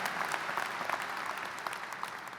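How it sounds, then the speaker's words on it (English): A university convocation audience applauds after a Star-Spangled Banner performance, a fairly faint, even patter of many hands clapping throughout. "Let's give another round of applause for Lily Hunwick and her beautiful rendition of the Star-Spangled Banner."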